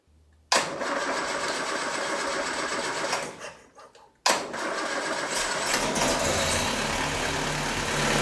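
A Land Rover 2.25 engine whose carburetor needs rebuilding cranks and catches, runs loudly, stumbles and nearly dies, then restarts and keeps running at a steady, rough idle close by.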